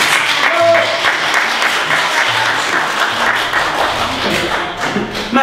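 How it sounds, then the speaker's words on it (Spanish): A comedy show crowd bursts into loud, close applause with dense continuous clapping, while faint voices sound underneath. "regálame un fuerte aplauso,"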